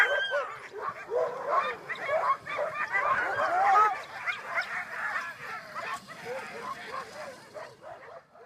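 A pack of sled dogs barking, yipping and whining excitedly together before a morning run, a dense overlapping chorus at moderate distance.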